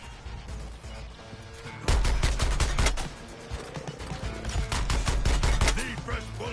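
Machine gun fire in the shooter game Suicide Squad, dense rapid bursts of gunshots with crashing impacts, loud and continuous through the middle of the passage, mixed with game effects.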